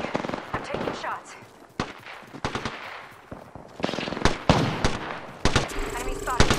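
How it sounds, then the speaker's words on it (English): Rapid automatic gunfire in Apex Legends, with bursts of sharp shots and clattering impacts coming in quick uneven volleys, near and loud, with brief pauses between them. "I'm taking shots."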